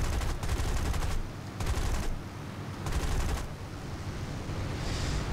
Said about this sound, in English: I'm getting shot by my own guys